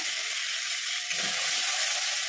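A steady, close sizzle of masala frying with tomato paste, whole sugar and green chilli in a pan for paneer masala, continuous and bright with a faint stirring scrape partway through.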